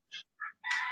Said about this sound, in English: Bloody roosters.